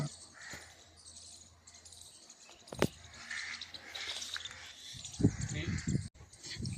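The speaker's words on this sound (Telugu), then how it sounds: "కాకులు సౌండ్లు వినపడతానే ఉన్నాయి" Crows caw intermittently from trees in the distance at Satrasala against a quiet outdoor backdrop with insects buzzing, a few louder rustles and knocks near the end.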